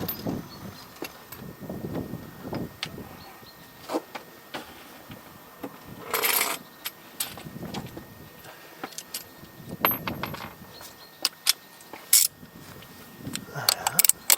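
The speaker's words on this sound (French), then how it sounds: "donc vous prenez votre cliquet," Ratchet fitted with an extension turns a 36 mm socket on a Skoda Fabia 1.4 TDI during an oil change, bursts of metallic clicking and clanking with pauses, close up, under intermittent talking.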